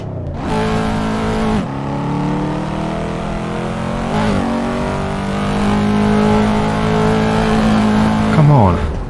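A car driven with clutch gear changes in Assetto Corsa, its engine loud and close, revving up through several shifts with abrupt drops between gears while someone talks over it.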